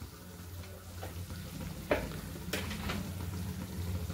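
Masala for pav bhaji being stirred and fried in a pan with salt added, giving a steady low sizzle broken by a few sharp scrapes of the spoon against the pan.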